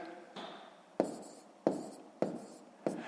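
Numbers are written by hand on paper in a quiet room: a pen scratches and taps in four or five short strokes, close and fairly faint.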